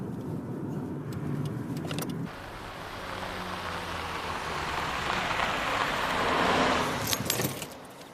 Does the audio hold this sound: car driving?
yes